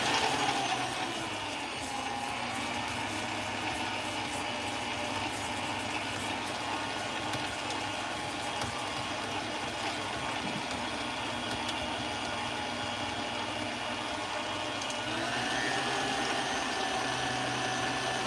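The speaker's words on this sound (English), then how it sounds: "Right now we're creaming our butter and sugar together." An electric mixer creaming butter and sugar hums steadily with a churning whir for the whole stretch, fairly quiet and with no voices.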